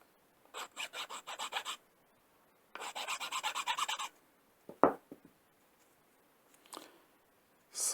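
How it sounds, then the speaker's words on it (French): A hand file rasps across a piece of polyacetal plastic in quick back-and-forth strokes, two long close bursts, then a sharp knock, followed by a few shorter scrapes. "ça c'est le polyacétal, ça se lime bien, hein."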